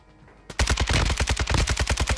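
After a quiet half-second, a Kastov 762 rifle in Warzone bursts into loud, rapid automatic fire, with roughly fifteen sharp shots in a fast, even rhythm close up.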